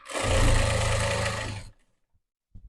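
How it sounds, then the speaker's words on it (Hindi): Sewing machine running a steady stitch on a ready-to-wear saree, a close, loud mechanical whir for under two seconds before it stops, followed by a couple of faint clicks. "तो ऐसे हमने इसकी सिलाई कर लेनी है।"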